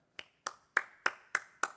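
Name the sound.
half-hearted, reluctant clapping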